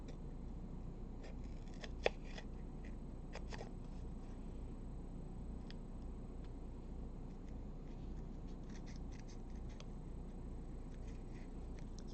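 Scissors snipping through a sheet of paper trimmed down to playing-card size, a few quiet close cuts and slides over a steady low background hum, with no talking.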